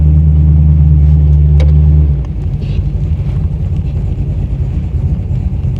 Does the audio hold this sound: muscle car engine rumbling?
yes